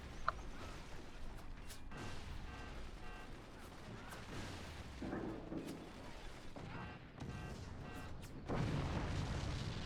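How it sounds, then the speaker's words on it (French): Booming cannon blasts and gunfire bursts from a team shooter match, repeated through the clip under steady game noise and occasional voices. "Le canon."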